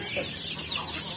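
Chickens on a farm flock of hundreds cluck in short bursts against a low background hum. The sound is brief and moderately close.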